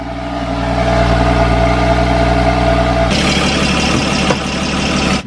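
A damaged Porsche 981 Boxster engine, check engine light on, idles steadily with a low, even rumble, up close, with a slight shift in tone partway through.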